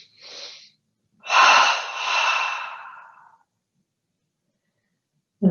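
A slow breath drawn in through the nose during a full-body yoga recovery session, audible as a short airy intake followed by a longer, louder breathy rush that fades out, with no talking over it.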